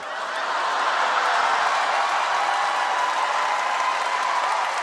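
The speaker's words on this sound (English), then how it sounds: "Why are we clapping?" A comedy-show audience breaks into sustained applause mixed with crowd noise, a steady, full wash of clapping that swells in and holds at an even level.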